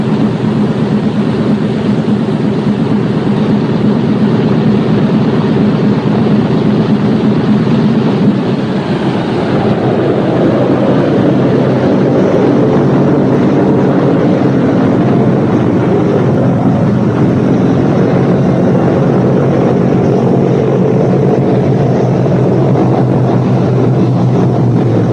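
Loud, continuous drone of a Boeing B-17 Flying Fortress's piston engines running steadily, with the pitch and rumble shifting partway through as they rev.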